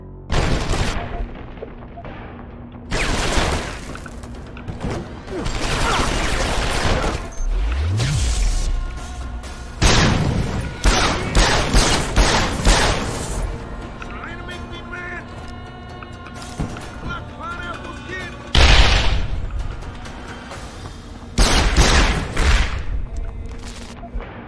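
Gunfire and loud explosive booms from the first-person stealth-action game Deus Ex: Human Revolution, with repeated bursts of broadband blasts and rattling shots spread through the stretch, including a grenade detonation amid the chaos.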